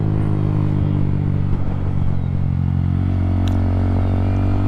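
A Honda Grom motorcycle ridden through curves, its small engine giving a steady, loud, close droning rumble with a little wind noise and no speech over it.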